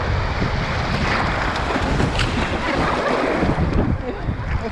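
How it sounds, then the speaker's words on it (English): Big ocean waves on a sandy beach, a loud continuous roar of surf mixed with heavy wind buffeting the microphone, filling the whole stretch with no clear speech. "We're on a sandy beach. The waves are horrible."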